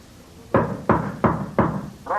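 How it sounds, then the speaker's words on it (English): Four firm, evenly spaced knocks on a wooden door sound close and dry in a radio drama, followed by the start of a voice. "Roderigo, open the door. Roderigo! Yes, Your Highness. I'm opening it."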